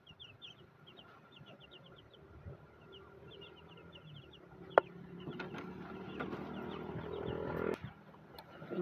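Chickens cluck and chirp softly amid rustling and scratching, with one sharp knock midway and a low background rumble.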